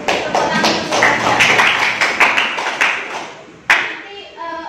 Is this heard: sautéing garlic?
no